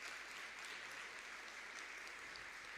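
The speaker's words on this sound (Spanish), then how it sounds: "Un fuerte aplauso aquí" Applause from a gathering at a catechesis and liturgy training session, a continuous even patter of many hands clapping at a consistent level, fairly faint with no talking.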